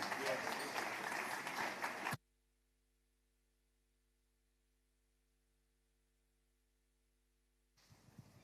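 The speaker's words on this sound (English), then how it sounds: "please give a round of applause for Sinari Danjo." Audience applause at a business event in Lagos State, Nigeria: loud, dense clapping for about two seconds that cuts off abruptly into near silence, then faint noise returns at the end.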